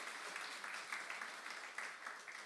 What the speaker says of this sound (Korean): 여성사역팀에게 박수하겠습니다.